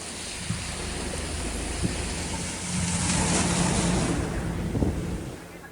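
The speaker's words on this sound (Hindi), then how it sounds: "ऋषिकेश में गंगा नदी खतरे के निशान के करीब बह रही है।" Swollen Ganges River rushing through Rishikesh in torrential monsoon rain, a steady dense roar of water and rainfall that swells louder midway, with faint thumps and no voices.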